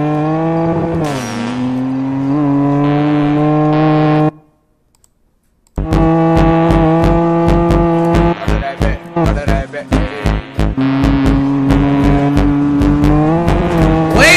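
A loud car engine in the GTA video game revs hard and sustained, drops out briefly, then returns with rapid stuttering rev bursts and shifting pitch, close and dominant with no talk over it.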